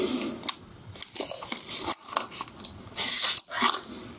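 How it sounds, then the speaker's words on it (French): Plastic sachet holding a photo-etch sheet is torn open by hand, with a series of short crinkling and ripping bursts that come up close and fairly faint. "le plus compliqué, c'est d'ouvrir le sachet"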